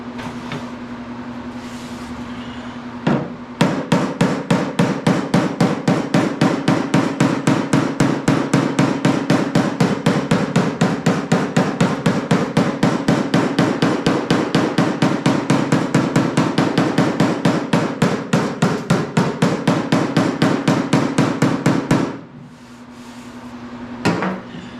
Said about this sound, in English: Hammer that just a little bit.